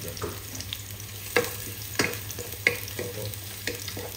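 Garlic and lots of onion sizzling in a pan as they are stirred, a continuous fry hiss broken by several distinct scraping strokes of a utensil, close by.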